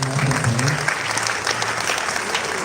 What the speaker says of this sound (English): Let's see the round of applause.